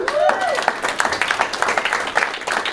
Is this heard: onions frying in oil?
no